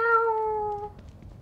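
A cat in The Evil Within 2 video game lets out one clear drawn-out meow that is close and loud, then fades into quiet background noise.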